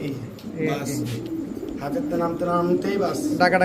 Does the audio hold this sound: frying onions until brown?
no